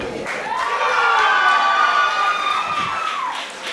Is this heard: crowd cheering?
yes